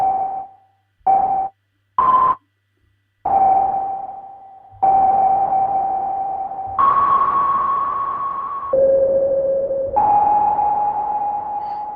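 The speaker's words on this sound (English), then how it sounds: "So that is a classic filter cutoff." Moog Model 15 modular synthesizer playing plucky notes with a classic filter cutoff: short clipped tones at first, then longer sustained notes at changing pitches, loud and close, no talking.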